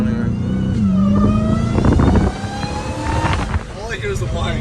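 A Dodge Hellcat Redeye fitted with valved mufflers revs up, its deep exhaust rising under a high supercharger whine. The engine sound swells and falls off, with voices talking over it nearby.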